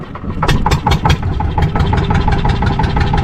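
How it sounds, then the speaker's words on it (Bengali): A fishing boat engine off the Andaman Islands starts up, then settles into a steady, fast idling chug with rhythmic knocking, loud and close throughout. "তো সবাই কিন্তু বেরিয়ে যাচ্ছে এবার নৌকা আমাদের স্টার্ট"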